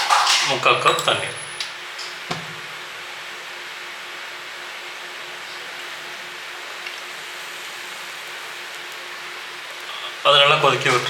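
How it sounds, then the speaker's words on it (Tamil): Sugar and water for bread halwa simmer in a pan, a steady soft hiss of bubbling that holds evenly for several seconds, with speech briefly at the start and again at the end. "அது நல்லா கொதிக்க விட்டுருங்க. சர்க்கரை நல்லா கரைஞ்சி நல்லா கொதிக்கட்டும்."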